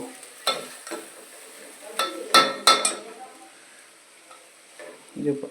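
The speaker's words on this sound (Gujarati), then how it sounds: "ડુંગળી બટાકા મરચું બધું નાખીને વઘાર દીધું છે" Onion, potato and chili sizzle in hot oil as a tempering, with a quick run of scraping spoon strokes against the pan and a loud crackle between quieter stretches.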